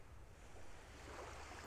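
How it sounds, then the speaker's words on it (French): Gentle ocean waves wash steadily as a continuous soft surf hiss, faint and distant, with a low rumble beneath and no voices. "Et peut-être à écouter le doux bruit des vagues qui parvient jusqu'à vous."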